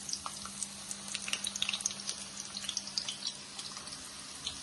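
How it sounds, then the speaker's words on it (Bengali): Onions frying in hot mustard oil, a crackling, spattering sizzle with quick irregular pops, close and fairly quiet, no talk. "এর তেলটা গরম হয়ে গেছে, আমি এবার একটু বেশি পেঁয়াজ ছেড়ে দিলাম।"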